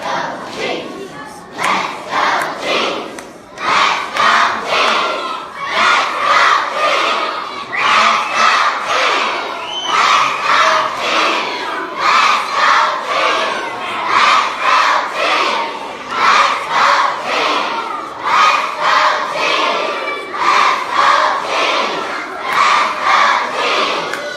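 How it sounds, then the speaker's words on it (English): A large crowd of school students cheers and shouts for the Chiefs, loud and sustained, in rhythmic bursts of yelling that rise and fall for over twenty seconds. "will you please help us cheer for the Chiefs?"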